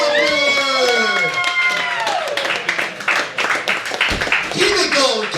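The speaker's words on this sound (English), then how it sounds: "One more round of applause for Nolan, everybody." Loud applause and cheering from a stand-up comedy audience, sustained clapping with whoops and shouts filling the room, with a host's voice calling out over the crowd.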